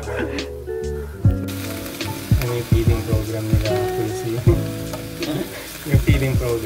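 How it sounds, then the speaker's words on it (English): Potatoes, carrots, onions, garlic and ginger sizzling in a pan, a steady frying hiss broken by repeated sharp clanks of a utensil stirring against the cookware. "So after browning the potatoes and carrots, we add the onions, garlic, and the ginger."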